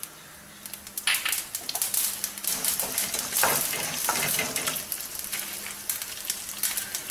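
Mustard seeds and urad dal fry in hot oil for a Tamil pirandai (adamant creeper) chutney, giving a steady close sizzle with scattered crackling pops and brief bursts.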